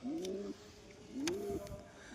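Pigeons in a home loft give two close, soft rising coos, one after the other with a short pause between, over quiet background noise.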